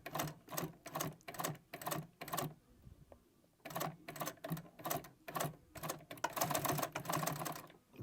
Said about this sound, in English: you run the stitch backwards and forwards just so it doesn't fray